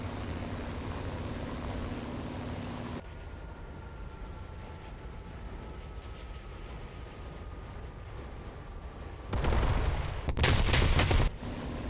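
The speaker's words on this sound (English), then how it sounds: "4 500-pound bombs took out that one base." Four 500-pound bombs from a rare aircraft in a war video game hit an enemy base, heard as heavy, rumbling blasts that surge at the end over steady engine drone, loud and broadband with no talking.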